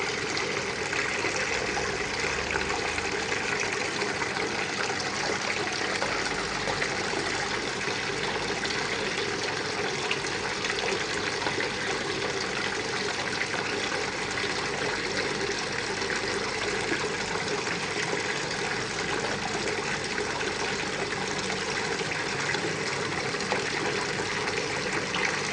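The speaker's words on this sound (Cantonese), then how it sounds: "雖然呢度係有擠嗰個水，佢嘅聲係比較嘈啲" Water flows continuously inside a public library in Anshun city, a loud, steady rushing wash that holds the same level throughout with no voices over it.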